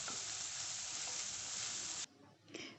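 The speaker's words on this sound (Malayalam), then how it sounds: "ഇനി പച്ചമുളകും സബോളയും കൂടി നന്നായിട്ടൊന്ന് വഴറ്റിയെടുക്കണം" Green chilies and onion sauté in a hot pan, a loud steady sizzle that cuts off abruptly near the end, followed by a faint stirring scrape.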